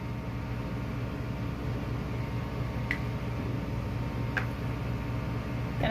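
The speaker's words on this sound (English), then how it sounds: "We've got the AC on." An air conditioner hums steadily inside a 5th wheel trailer on a hot East Texas day, a constant low drone with faint rhythmic pulsing and two brief soft clicks on top, with no voices.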